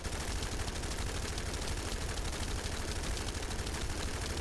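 Enduring Legacy gun in The First Descendant firing a dense, continuous burst of automatic shots, loud and steady throughout with no pauses.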